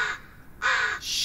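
Crow caws in the Blair Witch video game, two harsh, loud, drawn-out calls close by, separated by a brief quiet gap, with a third starting at the end, no talking.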